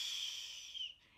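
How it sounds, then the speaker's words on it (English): A breathwork group exhales together in one long, steady, airy breath that fades out over about a second, quiet and close, with no talking. "Now all together we exhale."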